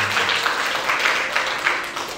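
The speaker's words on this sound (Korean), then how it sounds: "맞다면 박수 한번 부탁드립니다." An audience of high school seniors at a lecture event claps together, a dense steady wash of applause filling the hall throughout without a break.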